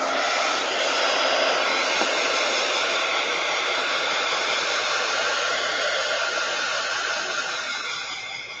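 A hair dryer runs steadily at close range for several seconds, a continuous broad airy whoosh that tapers slightly toward the end, with no talking over it.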